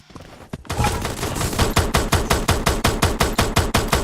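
Rapid automatic gunfire from the video game Free Fire: a sustained, loud burst of evenly spaced shots that starts after a brief muffled lead-in and continues steadily to the end.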